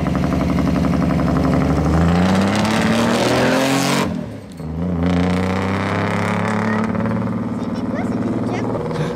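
A Ferrari 512 BB supercar at a rally event roars loudly and close, its engine revving high and then dropping off sharply before building again into a strong, steady drone.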